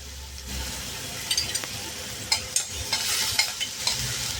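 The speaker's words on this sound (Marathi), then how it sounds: "कढईमध्ये तूप घातलेलं आहे, त्यात जिरं घालूया" A steady hiss of cumin seeds sizzling in hot ghee in a wok, with scattered crackles and pops and occasional stirring clicks, close up.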